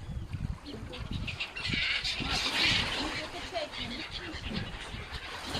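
Seagulls and ducks squawk and call on a Baltic Sea pier by the Zelenogradsk promenade, a busy chorus of cries amid wind and nearby chatter.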